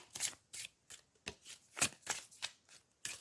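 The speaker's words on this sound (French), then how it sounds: "on va prendre l'oracle des miroirs pour avoir un tirage général" Oracle cards being shuffled by hand, a rapid series of soft riffling bursts and flicks in an irregular rhythm, close and fairly quiet.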